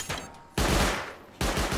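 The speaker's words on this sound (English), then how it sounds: "I just shot the auto turret, that was bad." Rapid gunfire in the video game Rust, aimed at an auto turret, comes in two loud, close bursts of fast repeated shots separated by a brief pause.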